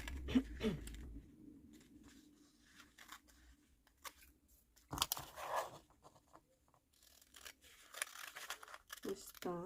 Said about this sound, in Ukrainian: Зараз я її виріжу